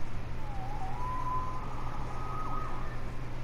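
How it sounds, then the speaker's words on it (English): A police siren in a video game wails faintly at a distance, rising and falling over a steady low rumble of traffic or engine noise. "Saved by the siren."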